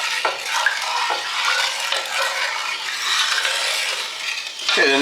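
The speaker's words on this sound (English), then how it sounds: "I kind of just stir it a little bit as it's coming up to temperature." Pickle brine with celery seeds and turmeric heats in a pot while a spoon stirs it, producing a continuous scraping swish with occasional knocks against the pot's side.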